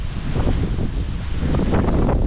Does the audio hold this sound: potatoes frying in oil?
no